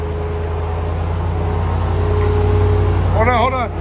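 A RAM TRX pickup truck idles off-road with a deep steady engine rumble before a brief rising rev near the end, close and loud, with a voice briefly audible over it.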